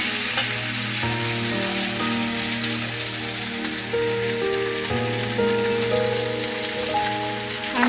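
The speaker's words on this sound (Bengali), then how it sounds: "এই যে এখন রান্না হচ্ছে মাংস।" Meat frying on an earthen stove gives a dense, steady sizzle and crackle without a break, close and even in loudness, over a faint sustained tonal drone.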